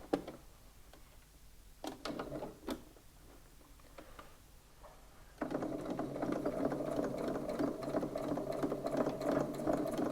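A sewing machine stitches a row across a reversible shopper bag, running in a steady, close buzzing whir for the second half after a few scattered clicks and handling taps.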